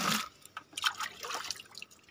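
Yellowish fertilizer water poured for watering bonsai stock in a ground plot, a short faint splash and trickle of liquid with a few drips.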